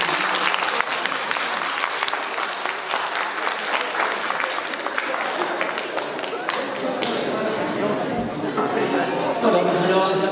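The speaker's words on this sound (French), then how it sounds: "vous pouvez, je pense, applaudir les 5 personnes que vous avez sur scène" Audience applauding five people on stage at an event in Hirson, dense sustained clapping throughout, with some voices and chatter mixed in toward the end.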